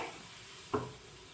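Water sprinkled onto a hot nonstick griddle for uttapam hisses in one short, sharp burst partway through, over a faint, quiet background.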